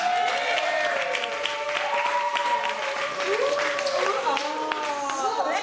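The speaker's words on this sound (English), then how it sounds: "So another round of applause for our contestants." Applause from a party crowd for contestants on a live blind-date show at a World AIDS Day celebration, moderately loud and continuous, with music and voices carrying clearly over the clapping throughout.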